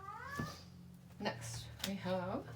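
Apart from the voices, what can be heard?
cat meowing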